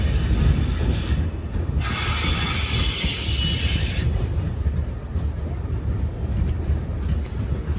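Alleppey–Dhanbad Bokaro Express coaches rolling through curves, a continuous heavy rail rumble with high metallic wheel squeal rising and fading, heard from inside the train.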